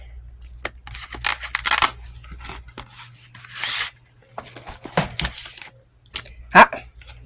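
Paper rustles and tears in short, close bursts as an envelope is handled and opened, with crinkling scrapes spread across the clip and quiet gaps between.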